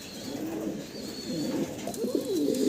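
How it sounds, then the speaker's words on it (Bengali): Spanish pigeons at a farm loft cooing in low, throaty rolling calls, several overlapping and close, over a steady background hum. "আমরা এখানে স্প্যানিশ কবুতর আপনাদেরকে দেখাচ্ছি।"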